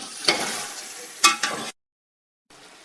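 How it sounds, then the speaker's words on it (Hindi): A spoon stirs yogurt and masala in a frying pan, two or three scraping strokes with a soft sizzle, then a short silence and faint sizzling resumes. "अब इसे अच्छी तरह मिक्स कर लेंगे।"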